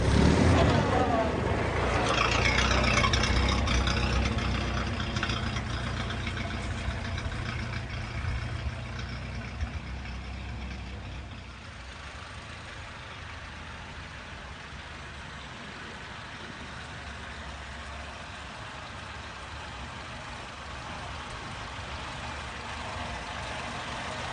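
A 1938 Austin Heavy Twelve's engine runs steadily with a low, rumbling drone. It sounds loudest in the first few seconds and then settles into a quieter idle while someone talks over it.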